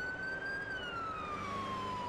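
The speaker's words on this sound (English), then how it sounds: "We're going to do lights and sirens the whole way." Police car siren in the Police Simulator video game, a steady wailing tone slowly falling in pitch over a low engine hum, loud and continuous with no talking.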